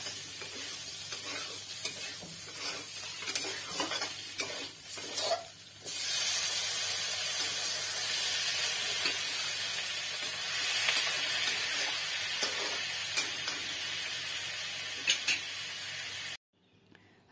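Turmeric, garam masala, chili powder, coriander and tomato sizzle and fry in a pan for bhujia while a spoon stirs with scraping strokes, a steady hiss running throughout before cutting off near the end.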